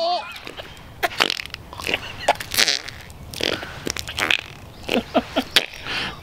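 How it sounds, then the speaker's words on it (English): Wet, juicy fart noises from a novelty fart cup toy, several squelchy bursts in a row against a noisy background. "millions and millions of farts are in that cup"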